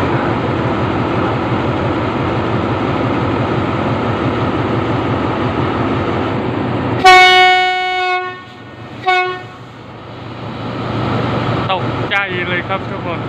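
A special express train, No. 6, pulls out of Nakhon Lampang station in Thailand during the 2023 Songkran festival, its steady engine and air-conditioning roar interrupted by two loud horn blasts and later a shorter horn toot.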